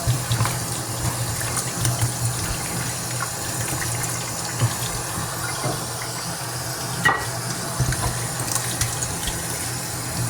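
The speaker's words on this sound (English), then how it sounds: "I'm washing the fish and I'm gonna put a little bit of vinegar on the fish." Tap water running steadily into a sink while fish is washed, a constant close splashing gush with small variations and no talking.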